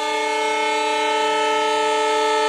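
A train gives a loud, steady tonal drone with a sustained horn-like hum that holds unbroken throughout, close by and with no voices.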